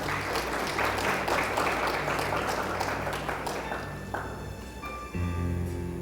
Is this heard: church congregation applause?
yes